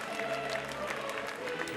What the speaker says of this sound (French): Dernière salve d'applaudissements